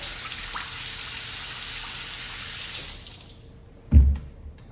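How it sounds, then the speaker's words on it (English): A kitchen tap runs steadily for about three seconds while potatoes are rinsed beneath it, then the flow stops, followed by a single dull knock and a few faint clinks. "I'm going to wash these 3 potatoes"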